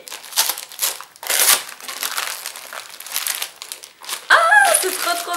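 Thick sticky tape is pulled and packaging is crinkled and torn while opening a surprise gift parcel, with loud crackling bursts and a sharp rip of tape near the end.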